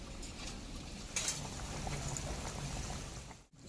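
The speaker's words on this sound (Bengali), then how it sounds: "ঝোল ফুটে গেছে" Hilsa fish curry broth, cooked with green chillies, bubbles at a steady boil in a pot, a dense, continuous hiss and gurgle close by with one brief louder splash partway through.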